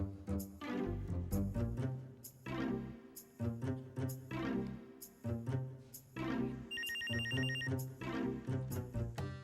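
A telephone bell rings in a comedy drama scene, a repeating ringing pattern heard against a loud musical background.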